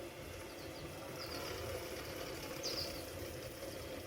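A Singer 319W sewing machine winds a bobbin with a steady, low mechanical hum and faint motor whir, running evenly throughout with a couple of brief light ticks.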